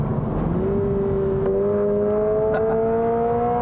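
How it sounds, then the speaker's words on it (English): Inside a 2022 Subaru BRZ sports car, the cabin speakers play a synthesized engine sound that rises steadily in pitch as the revs climb, a clean humming tone over a steady road rumble, with no talking. "You hear a lot of the engine noise, which is being synthesized through the speakers."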